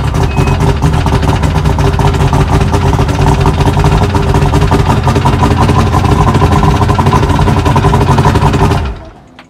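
A Sea Sport 2044 cuddy cabin boat's outboard engine runs at a steady, loud idle close by, a continuous low rumble that holds for nearly the whole stretch before cutting off abruptly near the end.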